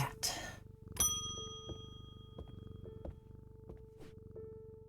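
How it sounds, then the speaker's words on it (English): Low steady purring from a cat in a video game, soft and continuous beneath a faint sustained tone, with a few brief chimes and clicks scattered over it. "Oh no, I want to pet the cat."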